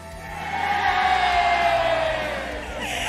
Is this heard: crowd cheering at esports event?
yes